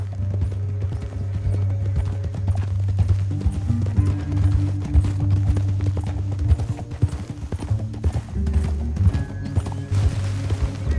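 Horses gallop through a canyon in Red Dead Redemption 2, hooves pounding in a fast, steady clatter with an occasional whinny, loud and continuous over a low rumbling game backdrop.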